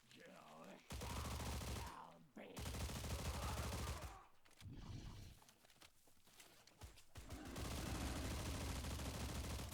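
Hip-fired gun in a shooter video game: loud, sustained bursts of rapid automatic fire in several long stretches, broken by brief pauses.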